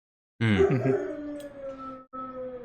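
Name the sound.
puppy howling and yipping in background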